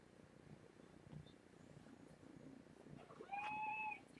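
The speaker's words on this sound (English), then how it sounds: "Oh, my cat's in here." A cat indoors purrs faintly and close, a soft low rumble under quiet room noise, ending with a short, clear meow.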